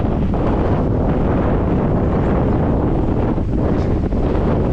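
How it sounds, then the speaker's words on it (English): Strong wind buffets the microphone outdoors near Hells Gill beck, producing a loud, continuous rumbling roar that lasts throughout with no break. "the wind's blowing towards you as well"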